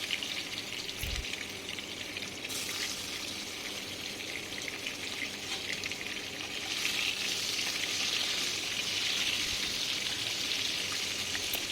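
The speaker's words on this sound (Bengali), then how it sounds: "তো বেগুনগুলো আমি ভেজে নিচ্ছি।" Eggplant pieces frying in mustard oil in a covered wok make a soft, continuous sizzle that swells slightly louder partway through, with no talk over it.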